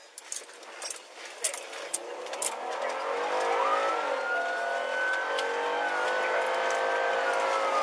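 A car speeds away from police during a traffic stop, its engine revving and rising in pitch as it accelerates hard, loud and close, with a few clicks early on.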